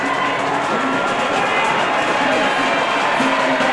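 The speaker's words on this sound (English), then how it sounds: "Listen to the crowd for this man." A dense, continuous roar of a large crowd cheering at a Tour de France stage finish line in 2016, loud and unbroken throughout, with voices mixed into the din.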